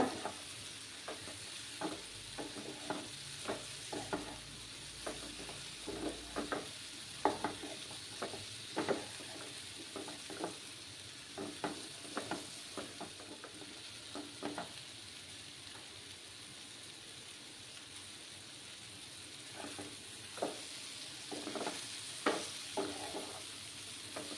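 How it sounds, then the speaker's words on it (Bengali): Papaya, potato and soybean chunks sautéed in a pan, a faint, steady sizzle with regular spoon scrapes and taps repeating across the whole stretch, quiet and without any voices. "ভালোভাবে সয়াবিন দিয়ে পেঁপে আর আলুর সাথে একদম ভালো করে কষিয়ে নেব"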